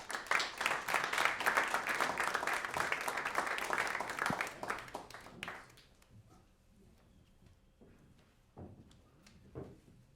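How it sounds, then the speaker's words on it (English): A conference audience applauds a panel of analysts at an evening event, a dense burst of clapping for about five seconds that fades out into scattered claps and quiet room noise. "Please give them a round of applause."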